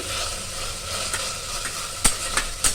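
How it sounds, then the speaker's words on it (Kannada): Ginger garlic paste frying in ghee for ghee rice, a continuous close sizzle with a few sharp stirring clicks and scrapes toward the end. "ಈಗ ಇದರಲ್ಲಿ ಒಂದು ಅಷ್ಟು ಜಿಂಜರ್ ಗಾರ್ಲಿಕ್ ಪೇಸ್ಟನ್ನು ಹಾಕ್ಕೊಳ್ತಾ ಇದ್ದೇನೆ ಇದರ ಹಸಿ ವಾಸನೆ ಹೋಗೋವರೆಗೂ ಹುರ್ಕೊಳ್ಳಿ"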